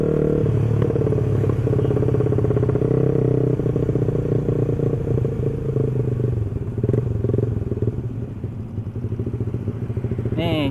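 A Honda Sonic 150R motorcycle engine runs hard at full throttle, a loud, steady raspy drone that stays close throughout. Wind and rumble from riding sit under it.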